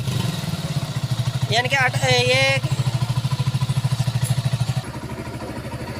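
A Honda CB 125 motorcycle engine with a suspected faulty rectifier causing overcharging, revved in a steady, rapid throbbing pulse close by that eases slightly near the end, while someone talks over it in Hindi.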